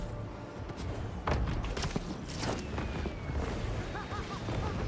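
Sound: fireworks going off in Spider-Man 2 video game

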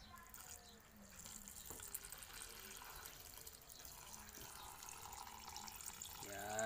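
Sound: pouring water into pets' water container

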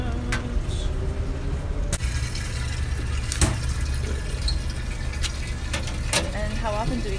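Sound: water pouring into tubs while rinsing bottles

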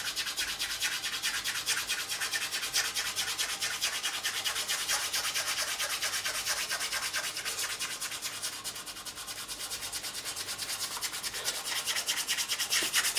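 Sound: sanding guitar fret ends with sandpaper

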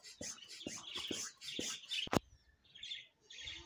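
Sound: pet birds chirping

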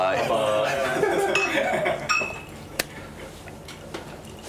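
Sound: glasses clinking in a toast

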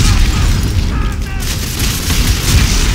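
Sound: grenade explosion in Dead Space 3 video game

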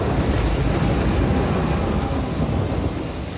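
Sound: thunder and rain in The Walking Dead video game

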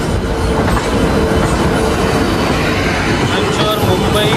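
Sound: Tejas Rajdhani Express train passing

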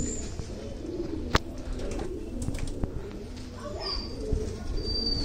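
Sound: pigeon cooing

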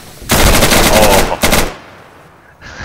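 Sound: gunfire in the video game Insurgency

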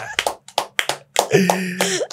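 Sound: clapping by few people in a studio

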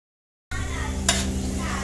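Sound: sliced onions frying in a pot

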